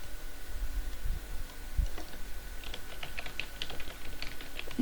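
Someone types a single word on a computer keyboard, a short run of light, close key clicks in quick irregular succession over a quiet room hum.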